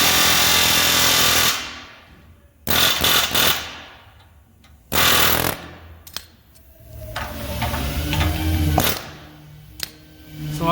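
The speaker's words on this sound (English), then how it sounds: "I just start chiseling it away." A chisel hammers away at a part of a 1992 Chevy truck bed in loud bursts of metallic, rapid impacts. Some bursts are long and some are short, with quieter gaps and clanks between them, close to the microphone.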